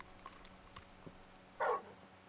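Torgal, the large wolf-like dog in Final Fantasy XVI, gives a single short bark after a few faint clicks and scuffs, close but fairly quiet.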